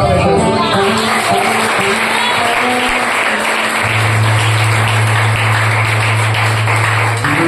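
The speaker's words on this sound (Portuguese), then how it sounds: "Aplauda Jesus" A church congregation claps loudly and continuously, with music or organ tones and voices mixing in beneath the applause.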